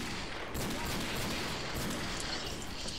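Desert Eagle pistol fire in the video game Left 4 Dead 2, loud shots repeating steadily over several seconds amid dense combat noise.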